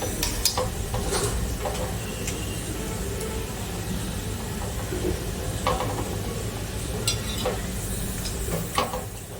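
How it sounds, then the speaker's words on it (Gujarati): Continuous loud sizzling of cashews frying in hot oil, with occasional clinks and scrapes of a spoon against the pan. "હવે આપણે કાજુ તળી લઈશું."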